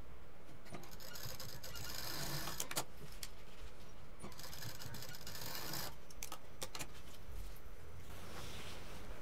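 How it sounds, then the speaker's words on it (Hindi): A sewing machine stitches a zip onto the belt of a bag made from old jeans, its steady mechanical whir running the whole time with brief pauses and a few sharp clicks. "बेल्ट को रखेंगे और फिर जिप को रखते हुए यहाँ पर सिल देंगे।"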